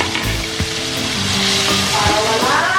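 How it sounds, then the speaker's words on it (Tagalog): Ginger, onion, garlic and tomato hit hot cooking oil in a pan, giving a loud, close, continuous sizzle and crackle with faint stirring and clatter underneath. "yung mantika natin, mainit eh, na, pwede na tayo maglagay ng ating mga sangkap. Luya, sibuyas, bawang at kamatis."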